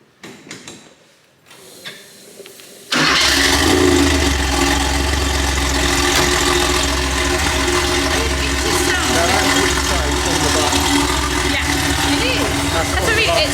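A Porsche 911 Turbo fires up on the button after a short crank, then settles into a loud, steady, close idle that carries on to the end.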